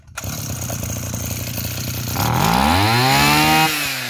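Old Mitsubishi T170 33cc two-stroke engine with a 36 mm piston, running at a steady idle and then revving up to a loud, high buzzing whine before it drops back, close by with no talk.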